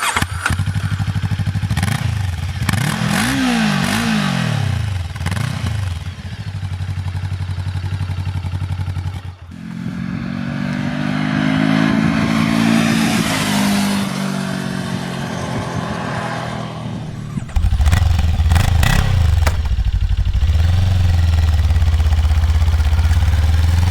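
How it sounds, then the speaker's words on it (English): A stationary VOGE 500 AC motorcycle runs loud and close, its engine throbbing at idle between several sharp revving blips. A louder steady idle returns at the end. "We were somewhat surprised by the stationary noise of 98 dBA."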